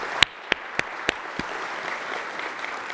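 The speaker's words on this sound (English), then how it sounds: "How about another round of applause for those service members and civilians" Audience at a conference opening general session, opening with a few sharp isolated claps before settling into a soft, sustained patter of applause across the hall.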